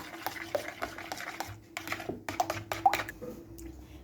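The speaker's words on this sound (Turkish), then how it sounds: "Sarımsağımla yoğurdumla karıştıralım." A spoon scrapes and clinks in a bowl as garlic is stirred into thick yogurt, with soft rhythmic strokes and a few sharper taps.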